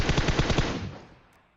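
M4 rifle in PUBG Mobile fires a rapid automatic burst of about six close, loud shots, then a decaying echo with no talk.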